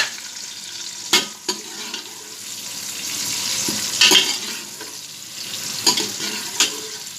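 Onion sizzles and fries in a hot pan, a steady crackling hiss with occasional scraping stirs, close and fairly loud, no talking.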